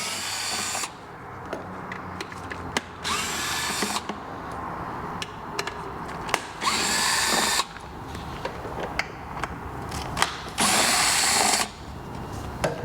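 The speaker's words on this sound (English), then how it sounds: "Now we're going to get the belt cover out of the way. The actual outer plastic belt cover is 2 belt covers, essentially. A T30 Torx driver." Power driver with a T30 Torx bit spinning out plastic belt cover fasteners on a Piaggio BV400 scooter, several short whirring bursts of a second or so separated by quiet clicks and handling noise, close and without talk.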